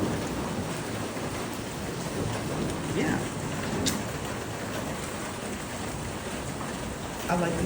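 A thunderstorm in Lubbock brings steady, dense rain hissing on surfaces, with low rumbles of thunder rolling underneath. A voice says a single brief word.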